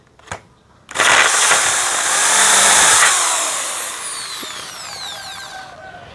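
A Dongcheng DJZ10-10 electric drill bores through wood: a short click, then a loud steady whine that holds for a few seconds and winds down as the motor slows.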